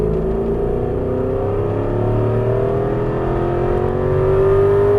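An Aston Martin V8 Vantage S accelerating on a track, the V8 rising smoothly in pitch with a loud, continuous engine note heard close from the cabin, without any talk.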